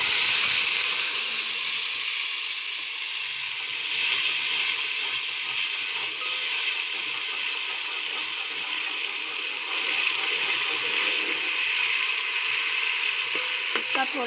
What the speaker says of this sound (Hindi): अब मैं इसमें थोड़ा सा पहले पानी डालूँ।